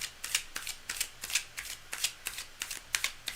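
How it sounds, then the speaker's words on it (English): Tarot cards being shuffled by hand during a live reading, a steady run of crisp riffling bursts repeating about every quarter second, close and fairly loud with no talk over them. "Cards are well shuffled, but I need to go again"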